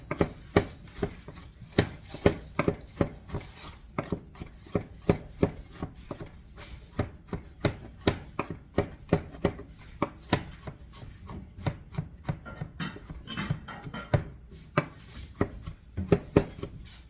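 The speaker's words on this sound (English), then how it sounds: "This is another way you can mince these up very nicely." Rapid knife chopping on a cutting board as food is minced for a pasta dish with tomatoes and cheese: a steady series of sharp, close taps that come in quick bursts, with almost no talking.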